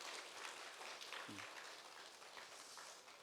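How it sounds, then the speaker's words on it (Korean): Soft, distant applause from a church congregation during a Sunday service, an even patter of clapping that stays faint throughout, with a brief voice partway through. "박수 한번 할까요?"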